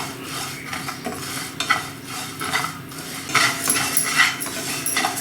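Raw rice and black gram dal dry-roasting in a pan while a spatula stirs and scrapes, a steady rustling, clinking scrape with brief louder surges of stirring throughout.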